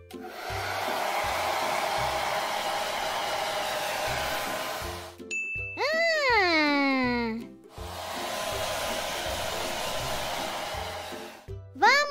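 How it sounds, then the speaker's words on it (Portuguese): A cartoon vacuum cleaner drones loudly and steadily, cutting out midway for a whining, swooping effect and a brief gap before the motor hum returns, close and continuous. "Fique com o aspirador e me ajude a aspirar a sujeira."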